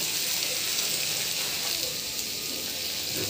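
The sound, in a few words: ridge gourd peel frying in oil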